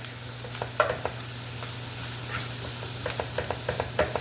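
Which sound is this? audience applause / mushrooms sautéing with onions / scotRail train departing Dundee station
mushrooms sautéing with onions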